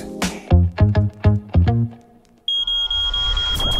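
Electronic alarm tones sound in a radio station advertisement: a series of about six loud, evenly spaced beeps, followed by a sustained high-pitched tone with background noise.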